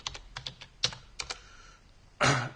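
Close keystrokes typed on a computer keyboard, several quick irregular taps and short bursts with pauses between, ending in a louder clatter, no voices.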